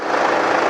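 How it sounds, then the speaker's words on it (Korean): A 2015 SUV's engine runs steadily as a broad, even drone with no break, fairly loud and close, over about a second. "엔진 소리 한번 들려드릴게요 엔진도 정상적인 소리죠?"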